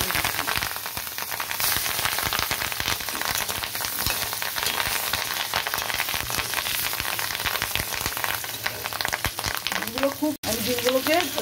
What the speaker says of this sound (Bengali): ডিমগুলোকে ভালো করে ভেজে নেব।